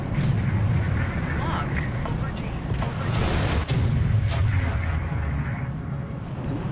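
A missile launched from a jet in a War Thunder air battle roars out as a loud, sustained rushing blast under steady engine noise, while someone talks over it.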